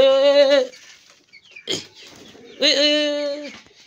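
Hens kept in a home flock, including one that had been sitting on eggs, give harmonic clucking calls near and fairly loud, one longer call, a short scuffle, then another drawn-out call, with no talk.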